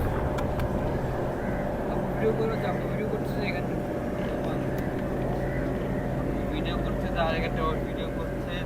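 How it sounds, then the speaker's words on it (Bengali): Boats race on Lake Gregory in Nuwara Eliya, Sri Lanka, their engines a steady distant drone over outdoor ambience, with voices talking nearby throughout. "এই যে বোটের রেস করতেছে এরা"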